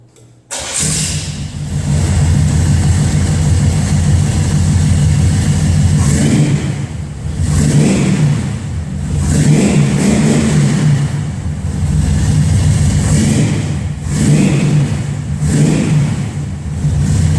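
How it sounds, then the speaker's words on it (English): A car engine with an X-pipe exhaust cranks and fires up, then revs repeatedly in loud surges over a deep rumbling idle, close by. "let's see what this cool little X-pipe sounds like"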